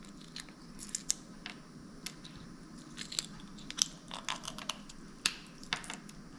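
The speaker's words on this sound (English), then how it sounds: "Another way of opening the cockles, if they're tightly shut, is to bash one against the other" Cockle shells are bashed against each other to crack them open, giving a series of sharp, irregular clicks and cracks close by over a quiet background.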